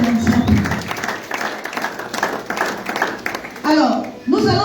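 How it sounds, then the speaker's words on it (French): A church congregation claps and cheers for the Lord, scattered applause and voices filling the room, with people talking and calling out over it toward the end. "Est-ce qu'on peut acclamer le Seigneur?"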